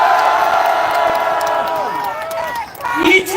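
A crowd at a political rally outside a national assembly cheers and shouts, a loud roar of many voices that fades a little and then swells again. Amplified speech from the stage carries over the crowd.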